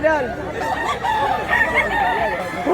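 A year-old rooster, a medium-sized gamecock, crows repeatedly at close range, loud and continuous, with other fowl clucking and faint chatter mixed in behind.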